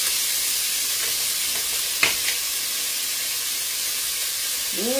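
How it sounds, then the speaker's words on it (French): Rabbit pieces brown in a cast iron cocotte for a hunter-style sauté, giving a steady, close sizzle with one sharp stir or clank of a utensil midway and a faint rising squeak near the end. "je fais juste revenir un petit peu"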